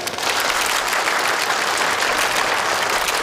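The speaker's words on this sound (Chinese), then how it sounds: "掌声欢迎顾总" Loud, dense applause fills a banquet hall at a corporate anniversary celebration reception, a steady wash of many hands clapping without pause.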